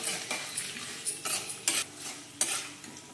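Peanuts fry in oil for lemon rice while a spoon scrapes and stirs them in a few distinct strokes over a soft, close sizzle.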